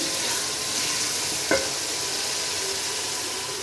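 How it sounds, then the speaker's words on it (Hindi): Ridge gourd and potatoes drop into a pan of fried spices, a brief clatter followed by a steady sizzle and frying hiss that continues alone. "अब इसमें टिंडे और आलू ऐड करते हैं।"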